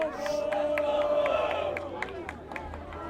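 A high school student section at a varsity football game against Danvers jeers at the opposing offense in a sustained, rowdy crowd roar, punctuated by regular clapping or stomping beats in the distance and with talk close by.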